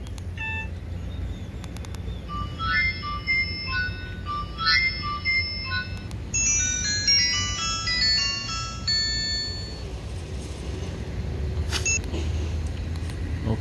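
A Nokia 105 phone plays a beeping melodic ringtone at maximum ringing volume, a run of quick, high tones over a quieter rumbling room background, with a brief later click.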